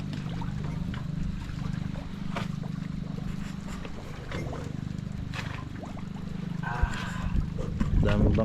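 Boats on the sea during a spearfishing outing: a steady low engine drone hums throughout, with faint water splashes and brief voice-like sounds near the end.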